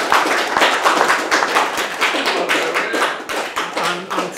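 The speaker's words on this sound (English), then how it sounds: "give a round of applause to Jeremy Turner and Richard Edmonds" A round of applause from the audience at a nationalist political meeting, continuous crisp hand-clapping from a crowd filling the room, steady and fairly loud with no talk over it.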